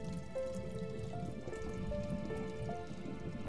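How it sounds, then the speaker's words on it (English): Water drips faintly and steadily in the video game Human Fall Flat, a soft pattering of drops over a low, quiet ambient background. "What's with the dripping water sound?"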